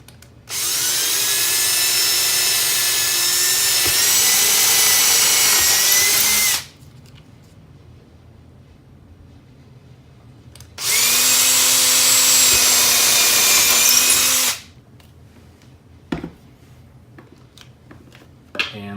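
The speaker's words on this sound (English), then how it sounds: "So we go ahead and get these drilled out." A power drill bores holes for cabinet hardware in two long sustained high-pitched whirring runs, each several seconds, separated by quiet pauses with faint handling clicks, close and loud.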